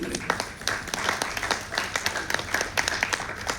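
Audience applause for the Narthanalaya dance troupe at a stage performance, a steady patter of many hands clapping in a hall, moderately loud and continuous.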